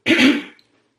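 A single short, harsh cough, close and loud, followed by silence.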